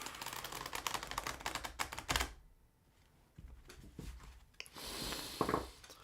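Tarot cards are shuffled close by in quick riffling bursts of crisp, papery clicks, broken by a quieter pause in the middle before another brisk shuffle, with no talking.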